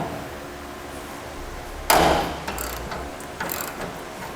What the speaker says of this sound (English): We're going to use a 7/8 inch socket.